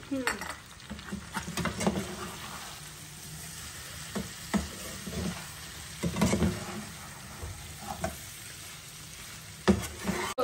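Chicken fry with coriander powder is stirred in a pan, a soft continuous sizzle broken by repeated scraping and clinking strokes of a spoon against metal at irregular intervals, fairly quiet and close.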